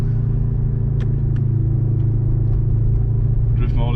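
Mercedes-AMG C63 (2023, four-cylinder) in drift mode, the engine giving a steady loud low rumble heard from inside the cabin, with a voice speaking over it.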